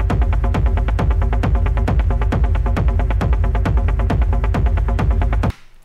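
Driving synth pattern from a track, a fast even 16th-note sequence mixing ringing square-wave notes with shorter, choppy noisy hits, loud and continuous before cutting off abruptly near the end.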